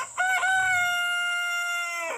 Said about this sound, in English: I actually caught him on camera this morning when he crowed, so here's a horrible quality clip of that from my phone.